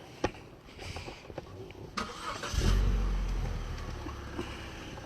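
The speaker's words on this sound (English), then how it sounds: "Hope nobody else jumped when he started that car then." A car engine cranks and fires into life near a church in Williston, then settles into a steady low idle after a few scattered clicks and knocks.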